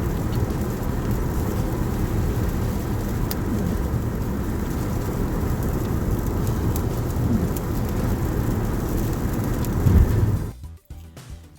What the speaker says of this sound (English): it looks like it's gonna be raining all day